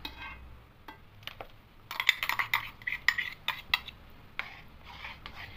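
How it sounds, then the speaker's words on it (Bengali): A spoon scrapes and clinks against a cooking pot while mango firni is stirred, irregular metallic taps and scrapes, some in brief rapid clusters, close by and without talk. "এটা খুবই নেড়ে যেতে হবে, নাহলে বসে যাবে"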